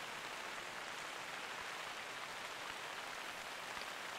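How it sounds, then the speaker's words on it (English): Steady rain pours in the outdoor hunting grounds of a Germany game map, a dense, even hiss of drops on the surface that stays constant and fairly loud throughout, with no voices. "And with all this rain, that'll be pretty difficult."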